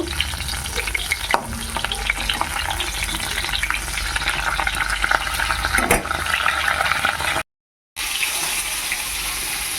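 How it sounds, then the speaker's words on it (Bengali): Giant river prawns fry in hot oil in a wok, giving a loud, continuous crackling sizzle up close, broken by a few clanks of a utensil and one brief cut to silence near the end. "এক পিট ভাজা হয়ে গেল আর এক পিট ভেজে নেব"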